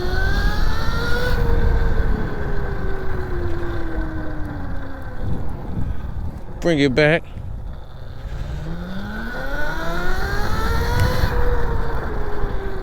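A Razor MX650 76V electric motorbike with a Noisy Cricket controller whines as it accelerates through figure eights, its pitch repeatedly rising and falling with a brief harsh burst midway, under wind noise and a man's short spoken remark.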